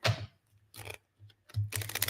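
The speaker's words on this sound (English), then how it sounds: "One more shuffle." Tarot cards being shuffled by hand, a few crisp riffling bursts separated by short pauses, close and fairly loud, with no talking during the shuffle.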